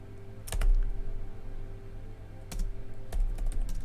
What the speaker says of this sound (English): the typing is quite loud